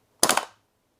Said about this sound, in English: Two-round burst.